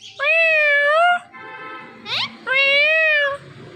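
Mithu the talking parrot mimics a cat, giving two long, clear, wavering meows separated by a short squawk, loud and close.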